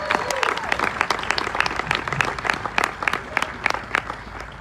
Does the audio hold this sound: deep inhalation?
no